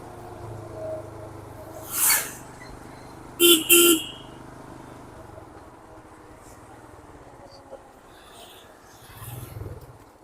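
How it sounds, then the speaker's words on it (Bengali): Car horns honk on a Darjeeling road: a single toot, then a double blast a moment later, over low traffic rumble, with faint further horn sounds toward the end. "হর্ন মারাটা কিন্তু মাস্ট এখানে"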